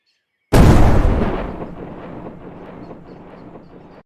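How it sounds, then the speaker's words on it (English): A sudden heavy explosion bursts in loud and deep, then fades into a long, rumbling, thunder-like tail. "It sounded like it kind of had a thunder layer in it"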